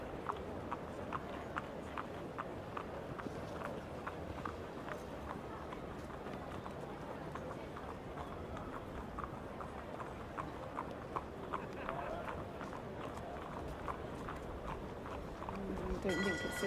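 A racehorse walks around the pre-parade ring at a horse racing meeting, its hooves making a steady, rhythmic clip-clop that stays moderately faint under the ambient noise of the course, with speech heard in the background.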